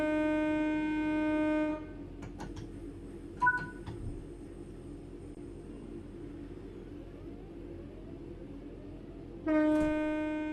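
Train starting to move in Train Sim World 4, a steady low rumble of rolling stock with a sustained horn-like tone at the start and again at the end, plus faint clicks in between.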